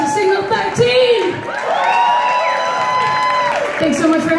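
A club crowd cheers, whoops and applauds for the band, loud and close, with shouts and voices rising over the din throughout.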